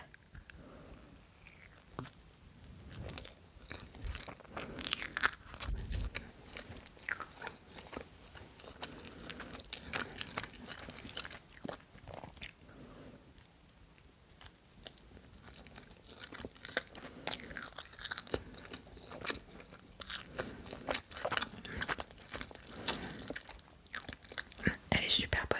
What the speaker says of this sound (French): on va goûter cette confiture abricot miel